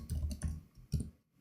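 Keys clack on a computer keyboard in a few short, close bursts of clicks separated by brief pauses, ending in near silence, with no voices.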